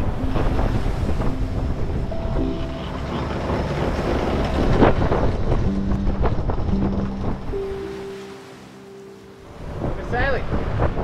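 A sailboat under sail on open ocean, with steady wind buffeting the microphone and waves washing against the hull in a continuous rushing roar that dips briefly before returning.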